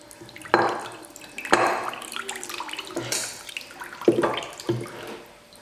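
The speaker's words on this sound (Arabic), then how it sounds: "صافي كنصفيها من الماء ديالها" Steamed vermicelli for Moroccan seffa being drained of its water, giving splashy dripping and trickling bursts with several clattering pulses close by, no talking.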